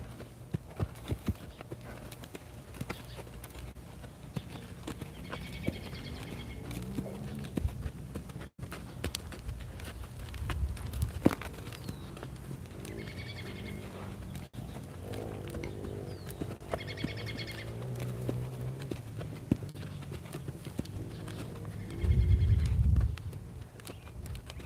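A horse being lunged in real time, its hooves thudding softly on the ground in an uneven rhythm, with faint background sounds and a louder rumble near the end.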